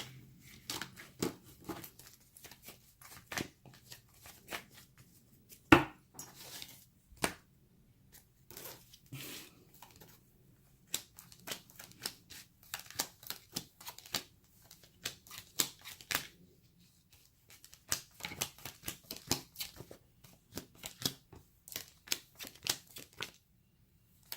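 Soft, quiet tarot card shuffling: papery flicks and riffles come in irregular bursts and pauses, faint and close, with no voices.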